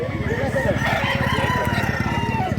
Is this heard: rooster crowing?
yes